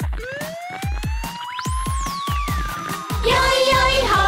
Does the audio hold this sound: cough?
no